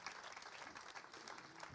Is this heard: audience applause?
yes